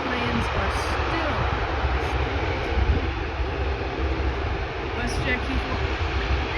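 A WestJet Q400 turboprop at Vancouver International Airport, a loud continuous engine roar filling the whole stretch, steady and close with a slight swell near the middle.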